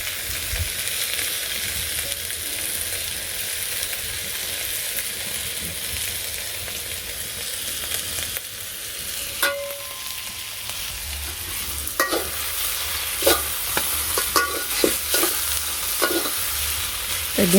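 Egg spread over snake gourd frying in a pan keeps up a steady sizzle, with louder scraping stirs and clatters breaking in during the second half; no talking.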